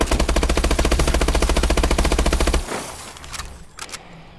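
A rifle fitted with a foregrip empties a whole magazine on a Call of Duty: Advanced Warfare firing range. The loud, rapid, evenly spaced automatic fire runs for about two and a half seconds and then cuts off, leaving faint clicks and handling noise.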